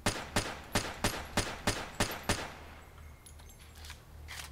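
Suppressed Makarov pistol in Fallout New Vegas fires eight evenly spaced muffled shots at a steady rhythm, each a sharp thud, followed by quieter mechanical clicks and faint clatter.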